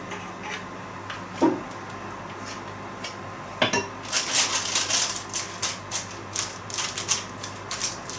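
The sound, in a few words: smoothing banana bread batter and scraping the bowl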